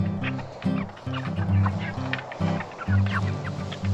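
A flock of farm chickens clucks and murmurs close by, overlapping low rhythmic calls with a few sharper squawks throughout.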